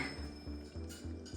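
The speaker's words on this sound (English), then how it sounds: "Pop the lid on" A lid set onto a pot of meatballs and marinara with a few quiet knocks and clinks in quick succession, close by and soft, with no talk.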